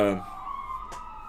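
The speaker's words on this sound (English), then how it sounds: "Is that an ambulance? Yes, that's an ambulance." A siren wails steadily in the distance while a voice speaks briefly at the start.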